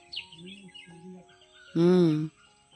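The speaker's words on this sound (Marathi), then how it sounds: "आज पक्ष्यांचे आवाज भरपूर आहेत ना" Birds call outdoors in a village: thin high chirps come first, then a loud, tonal, harmonic call for about half a second against a quiet background.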